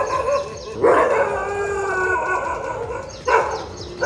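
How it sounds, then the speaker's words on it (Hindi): A dog bays and howls in two loud, drawn-out bursts with a quieter stretch between them, no talking. "देखो अभी इतना भौंक रहा है"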